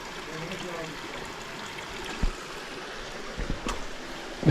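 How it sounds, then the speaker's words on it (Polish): Spring water flows through an underground tunnel beneath catacombs, a faint, steady trickling stream heard close by with a few soft knocks and no talk over it. "tunelem podziemnym woda płynie"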